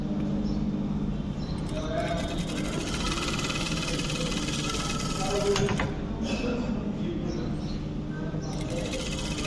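An industrial sewing machine stitches a seam 300 in a continuous busy whir with rhythmic clatter, while people talk over it throughout.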